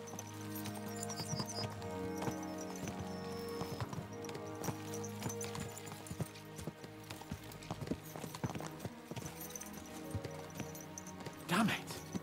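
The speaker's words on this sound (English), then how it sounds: "Let's really spur these horses on, eh?" Horses gallop along a road in Kingdom Come: Deliverance 2, with hooves clip-clopping in a steady rapid rhythm and an occasional whinny, under game music and people talking.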